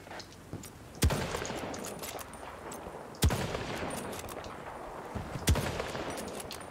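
Gunfire in Battlefield 2042, three sharp loud shots spaced a couple of seconds apart, each trailing into a rolling echo over a noisy battlefield backdrop.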